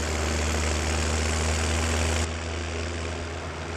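A tractor engine in the PS4 game Farming Simulator 17 drones with a steady low idle-like hum, dropping slightly in loudness partway through but continuing without pause.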